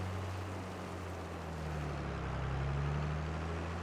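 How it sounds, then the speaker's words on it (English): A farm wood chipper with a grinder and a blower that sends wood chips into trailers runs as a steady, loud, low diesel drone, swelling slightly toward the end with no distinct bursts. "It's a grinder and a blower which will blow the wood chip into the trailers"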